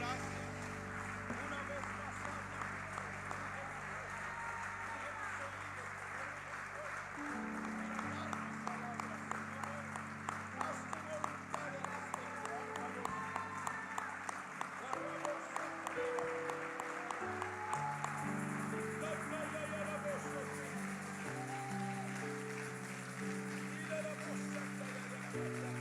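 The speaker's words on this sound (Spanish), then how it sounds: "Si usted lo cree, dele un fuerte aplauso a Jesucristo." A church congregation applauding at an evangelical service, sustained crowd clapping that builds into a dense patter, heard under a loud preacher's voice and music in a reverberant hall.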